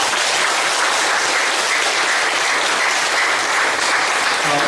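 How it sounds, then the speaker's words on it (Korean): Church congregation applauding the choir during a Sunday worship service, a loud, dense, continuous wash of clapping from many people filling the sanctuary. "찬양대에게 우리 감사의 박수 한번, 격려의 박수 함께 해서 드리겠습니다"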